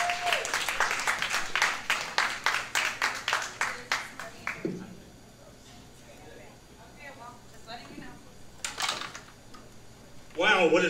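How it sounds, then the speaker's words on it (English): A crowd at an open-stage comedy night claps in a quick, loud rhythm as the comedian walks on, the applause fading after about five seconds into quieter room sounds and scattered speech. "Please make some noise for Joe"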